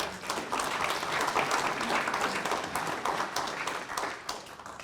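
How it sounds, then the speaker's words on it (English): An audience at a fall economic development breakfast in North Haven gives sustained applause, many hands clapping in a dense, even patter that stays strong for the whole stretch without talk. "Let's give him a round of applause."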